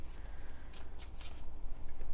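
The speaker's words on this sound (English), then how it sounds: "I always make sure to shuffle the cards really good." Tarot cards being shuffled by hand in a quiet room, a short run of soft riffling bursts and papery flutters, close and faint.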